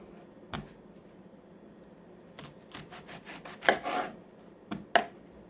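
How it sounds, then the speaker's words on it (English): A knife cuts through a medium-sized red onion on a board, a few separate close thuds and rasping slices coming in uneven bursts against a quiet room. "Here I have about a medium-sized red onion. I am gonna cut that up."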